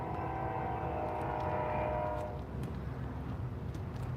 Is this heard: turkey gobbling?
no